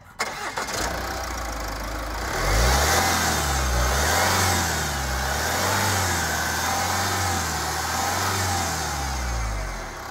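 A 2014 Jaguar XF engine cranks and catches, then revs up and settles into a steady running drone with gentle rises and falls, close by.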